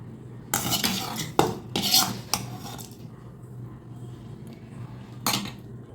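Fried ingredients being scraped and stirred into idli batter for kuzhi paniyaram, a few bursts of spoon-on-vessel scraping and clinks separated by pauses, close and moderately quiet.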